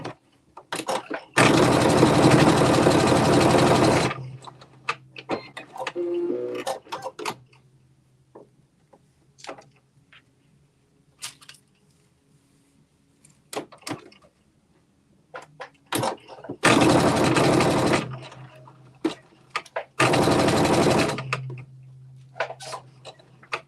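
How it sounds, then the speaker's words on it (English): A sewing machine runs a 5/8 inch seam in three separate bursts, a loud close whirring lasting a few seconds each, separated by quiet stretches with small clicks and fabric handling noises. "I'm going to stitch 5/8 of an inch seam allowance"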